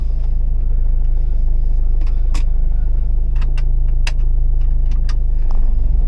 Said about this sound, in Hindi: और गाड़ी अभी मैं निकाल रहा हूँ।